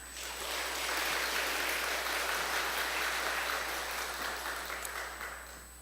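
A church congregation welcomes the pastor with applause, a broad, even roar of many hands clapping that swells in quickly, holds steady, then thins toward the end under a faint background hum.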